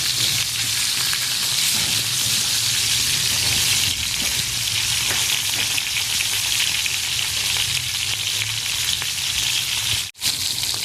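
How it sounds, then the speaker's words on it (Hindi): Fish pieces frying in hot oil with no masala, giving a steady, dense sizzle that holds evenly throughout with only faint stirring touches and a brief dip near the end. "ये देखिए दोनों साइडों से हमने करीब इसको 8 मिनट फ्राई किया है।"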